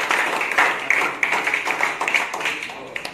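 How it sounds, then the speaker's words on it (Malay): A classroom group claps in a quick, steady rhythm for several seconds, the sharp claps fairly close and loud with some voices mixed in. "Tepuk tangan"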